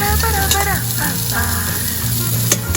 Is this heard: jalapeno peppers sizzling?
yes